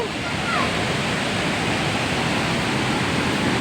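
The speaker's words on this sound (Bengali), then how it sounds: "আমি আমার বন্ধুদের দশম ফলসটা দেখিয়ে নিচ্ছি" Dassam Falls on the Kanchi river, a steady, broad roar of falling water that stays loud and continuous throughout.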